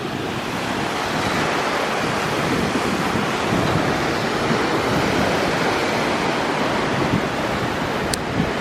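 Ocean waves surround a resort on three sides at Hyatt Ziva Cancun in Mexico, a loud, constant roar of surf and wind with no pauses.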